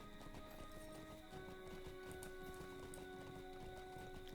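Hooves of a horse in a video game clip-clop in a steady rhythm under a continuous musical score, quiet and evenly paced throughout.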